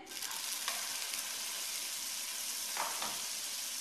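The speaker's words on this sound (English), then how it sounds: "And then I am going to sear it in this pan that is heating up to a high heat" Beef searing in a pan over high heat gives a loud, steady sizzle that runs unbroken, with a brief scrape or shift of the meat near the end.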